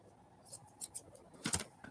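Scissors snipping through cheesecloth in a few quick, close cuts, the last strokes louder and crisper, with no talk.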